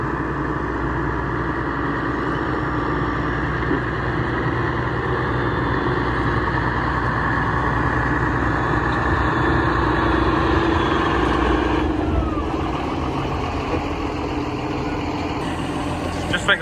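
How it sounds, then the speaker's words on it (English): A tractor runs steadily with a hydraulic straw blower attached for bedding down livestock with straw bales. The engine holds a constant loud, close hum with a low rumble throughout, shifting slightly near the end. "see how the tractor copes bedding down the animals"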